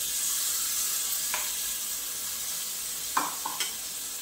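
Sautéed masala and tomato puree sizzle steadily in a pan, with a couple of soft spoon scrapes and knocks near the end as the mixture is stirred, close and fairly quiet.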